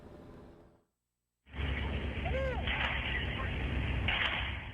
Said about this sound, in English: you can hear the gunshots ring out at Oakland's Oikos University